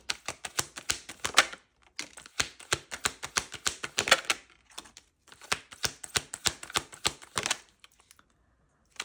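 A large deck of tarot cards is shuffled in three long bursts of close, rapid clicking riffles, each broken by a short pause, and no one speaks.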